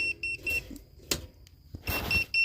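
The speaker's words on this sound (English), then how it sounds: "my target temperature is 430, so the alarm's going off." A DIY drum coffee roaster sounds its target-temperature alarm at 430°F, giving several short high electronic beeps in bursts with a broadband clatter in between, fairly close and loud.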